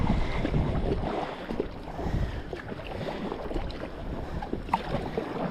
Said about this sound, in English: It is windy, but we've paddled in wind before